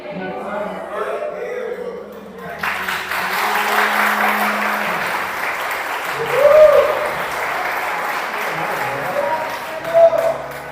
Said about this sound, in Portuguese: As palmas foram para Deus.